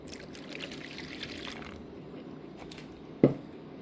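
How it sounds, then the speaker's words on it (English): Distilled water and glycerin pour steadily into a mixing container for a hibiscus hair growth butter, a soft liquid trickle that fades after a couple of seconds, followed by a single sharp click close by. "I'm adding in my distilled water and glycerin first"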